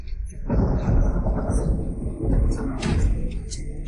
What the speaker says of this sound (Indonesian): Kru film mau syuting adegan hujan, aku langsung bikin. Hujan buatan.